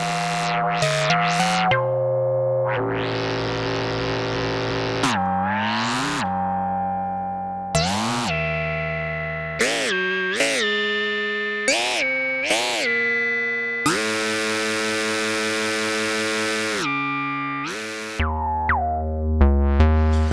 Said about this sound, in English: That sound kind of ring modded.